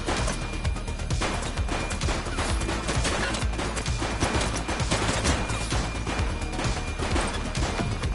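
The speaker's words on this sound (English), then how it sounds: "Shots fired!" Rapid, sustained gunfire in the police video game The Precinct, with dense bursts of shots and impacts continuing steadily at close range for several seconds.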